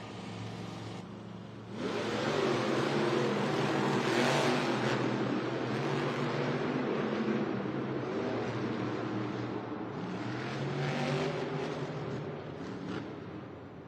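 Monster Jam monster trucks Maximum Destruction and Shaker racing in a stadium in Syracuse, NY: a loud, sustained roar of big engines revving hard, rising after a short quieter start and holding steady with crowd and arena noise.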